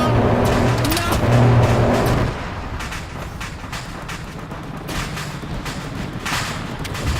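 Missile launch in a military video game, a loud sustained roaring burst with a droning tone that cuts off after about two seconds, giving way to softer rumbling battlefield noise and scattered distant shots.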